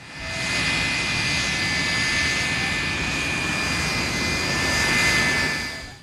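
A jet airplane landing: a loud, steady engine roar with a high whine on top, holding constant for several seconds before easing off slightly, with no voices.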